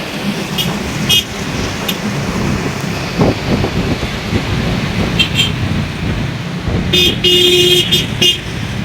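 Car horns toot in short bursts amid steady Jakarta street traffic noise, with a longer honk near the end; nobody speaks.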